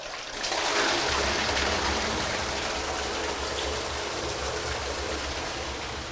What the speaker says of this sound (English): And as we open our tap, I can monitor how much we're emptying from the drum.